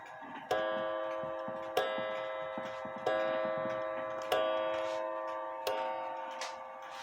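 A restored Jules Rolez gothic clock from about 1900 ticks steadily and close by, with each sharp tick ringing out and leaving a faint metallic resonance, spaced at a slow, even interval, and no voices.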